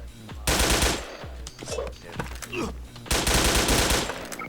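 Rapid automatic bursts from the AER-15 rifle in the online shooter Wolfteam, two long stretches of loud, close gunfire separated by a quieter gap with scattered shots and game effects.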